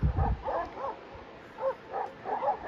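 A few scattered barks and yips from dogs at a distance, faint and irregular, with a brief louder thump at the start.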